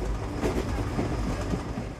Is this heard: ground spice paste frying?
no